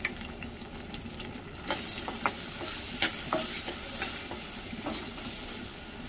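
Turmeric goes into hot oil for an eggplant masala curry, a soft continuous sizzle with scattered stirring clicks and scrapes in the middle, close and fairly quiet.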